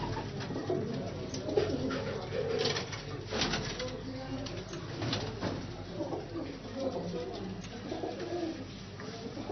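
Pigeons coo steadily in a breeder's loft of Lahore flying pigeons, overlapping soft throaty calls close by, with occasional rustles and a brief flutter.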